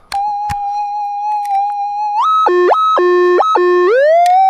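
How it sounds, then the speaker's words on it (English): A metal detector held over a small gold nugget gives a loud, steady electronic tone that jumps to a higher, warbling pitch and then pulses rapidly up and down, heard up close with no talking. "Have a listen to this on the detector."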